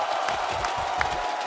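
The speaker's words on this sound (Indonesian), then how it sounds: "Tepuk tangannya sekali lagi." A crowd at a Mobile Legends esports match roars in a dense, continuous wash of cheering and clapping, with a few sharper accents poking through the din.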